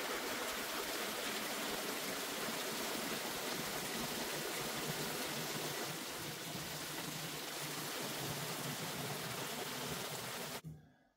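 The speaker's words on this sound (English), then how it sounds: "We made sure to have a freestanding faucet to come in from the floor to elegantly put water into the tub to fill it up" A freestanding floor-mounted faucet pours water into a bathtub, making a steady, dense rushing splash that lasts about ten seconds before stopping abruptly, close and continuous with no talking.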